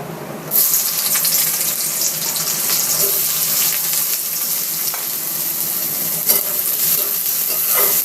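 Onions hit hot oil in a pan for a chicken curry, bursting into a loud, steady sizzle that carries on evenly with a few stirring clicks.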